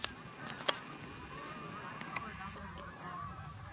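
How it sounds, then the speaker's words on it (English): Faint honking of geese, a few scattered calls over a low outdoor background hum, at Salmon Falls, California. "Oh, look at all them geese."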